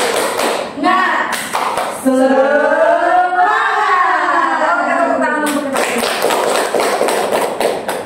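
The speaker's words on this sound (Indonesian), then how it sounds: "Oke, tepuk semangat" Classroom doing a rhythmic spirit clap, with bursts of sharp group clapping at the start and end and a long stretch in the middle where the class chants together in unison.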